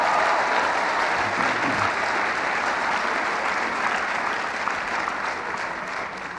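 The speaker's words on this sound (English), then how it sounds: "Give yourselves a round of applause." An audience claps steadily for several seconds, a dense and even burst of applause that fades slightly toward the end.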